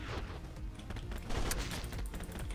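M4A1 rifle gunfire in the zombie emoji survival game Kill the Emoji, rapid bursts of shots layered over dense game noise, loud and continuous.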